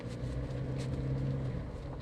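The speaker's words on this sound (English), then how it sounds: "It's also noisy. You can hear the engine. It's pretty audible." A Toyota Fortuner's 2.7-litre diesel engine hums steadily from inside the cabin during an SUV test at a speedway, a low continuous drone with no voices.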